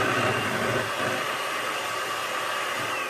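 Electric mixer whipping heavy cream into a thick keto ice-cream base, giving a steady loud whirring drone with no pauses.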